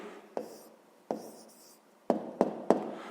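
Pen tapping and scratching on paper as an answer to a fifth-grade maths exercise is written out by hand, with five distinct close strokes, the last three coming quickly together, in a quiet room without speech.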